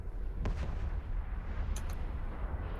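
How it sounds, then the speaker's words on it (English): A deep, rumbling explosion in the game EVE Online with booming low-end and scattered crackling bursts, loud and continuous throughout. "It's always nice for an explosion."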